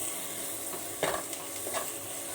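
Dried red chillies, with green chillies added, sizzle and fry steadily in a pan of hot oil, with a couple of brief stirring scrapes rising above the constant hiss.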